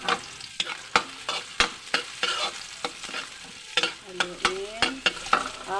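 Garlic and onions frying in a pan while being stirred, with crisp spoon clacks and scrapes in a steady rhythm over a constant sizzle, close and fairly loud; no voices.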